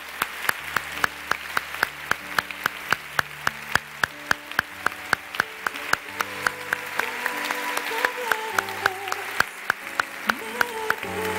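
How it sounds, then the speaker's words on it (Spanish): Congregation in a church clapping along in a steady rhythmic beat, sharp regular claps over sustained music with organ or keyboard tones, loud and close throughout. "vamos a darle un aplauso al Señor"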